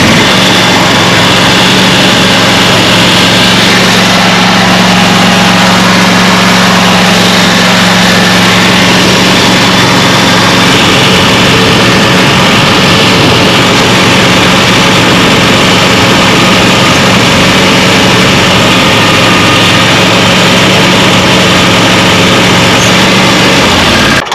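The engine of a Wright Stander ZK61 mower with a hydro oil leak runs steadily and loudly close by, a constant droning hum with a low rumble that continues unbroken for the whole stretch.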